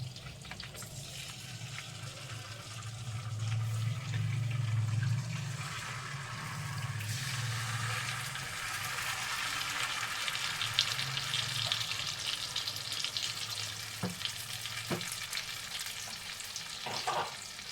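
Marinated chicken frying in hot butter in a pan makes a steady sizzle that grows louder as the pieces go in. Stirring and scraping come through now and then, and a few sharp clatters can be heard near the end.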